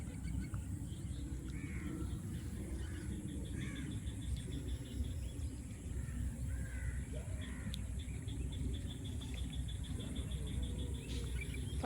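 Crows caw repeatedly in the distance over a steady, shrill drone of insects and a low rumbling background, with no one speaking.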